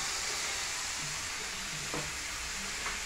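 Chicken and leek filling seasoned with pepper is mixed in a pan, a soft continuous hiss and sizzle with faint scraping strokes, steady and close, no voices.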